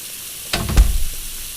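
A fire extinguisher blasts at a burning oven in the kitchen game Cooking Simulator, a short hissing spray bursting in after a quiet moment and fading within a second.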